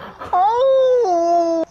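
A person imitates a howling dog during a Rocket League session: one sustained, wavering vocal howl with a rising start and a step down in pitch partway through, loud and close, lasting just over a second.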